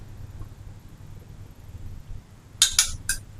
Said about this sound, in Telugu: ఈ మసాలా పొడులన్నీ కలిపేసుకోవాలి.